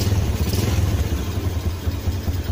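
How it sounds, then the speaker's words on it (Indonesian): Yamaha Jupiter Z motorcycle engine, its DC stator charging system converted to full-wave, idling close by with a steady low, rumbling putter that holds even throughout, with no talk. "Oke, sekarang kita hidupkan motornya."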